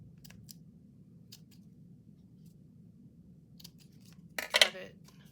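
Scissors snipping through collage paper while tags are being decorated: a few faint, isolated clicks early on, then a louder close cluster of snips near the end over a low background hum.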